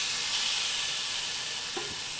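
Oil heating in a very hot pan while camping beside a restored Four Wheel Camper Eagle, a loud, steady broadband sizzle and hiss throughout, with a brief low knock near the end.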